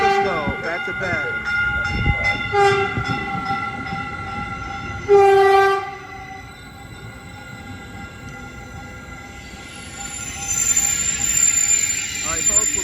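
A Caltrain train pulls into Redwood City station, its horn blaring in several harmonic blasts early on, one long and loud, followed by a steady rumble of the approaching train with some announcer-style talk over it.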